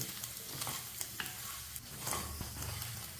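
Paneer frying in a pan with stirring, a quiet steady sizzle broken by scraping spatula strokes and small crackles.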